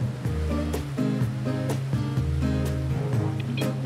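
A jet ski skims and bounces over choppy water, its engine note rising and falling in steady surges with splashing spray, loud and close throughout without pause.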